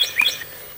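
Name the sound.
chirping cat skull novelty toy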